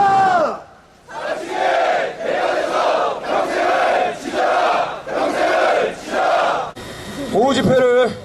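Protest crowd at a rally outside a prison chanting a slogan in loud unison bursts, five or six rhythmic shouted phrases in a row, followed by a single amplified voice.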